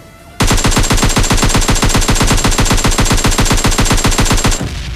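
Bots in PUBG Mobile Lite fire guns in a loud, sustained automatic burst, rapid evenly spaced shots running for about four seconds, with no talk over it.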